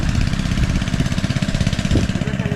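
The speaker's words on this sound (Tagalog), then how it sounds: "yung maandar po na makina na yan sa unahan po na yan" A small water-pump engine runs outdoors beside a falls. It chugs in a steady, rapid pulse, loud and close, with no talk over it.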